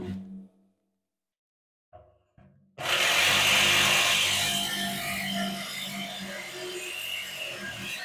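A power tool cuts through a metal barrel being made into a wood stove on an Alaska homestead. It starts loud and harsh after a near-silent stretch with a few faint knocks, then grinds on steadily to the end.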